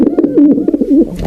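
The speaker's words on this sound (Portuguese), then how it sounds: "Esse é o som do pombo." A pigeon coos close by in a short burst of soft, throaty, rolling notes, loud and isolated with no talk.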